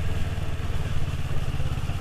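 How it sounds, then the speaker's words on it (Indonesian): A big motorcycle climbs an uphill road with little throttle, giving a steady low engine drone with a faint clatter, loud and continuous throughout, with no voices. "Ini walaupun nanjak tapi sama sekali enggak beban ke motor ini ya"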